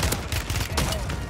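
Lockwood 680 rifle shots in Warzone 3, a few sharp, loud reports spaced apart within a busy, noisy game mix, no talk over it.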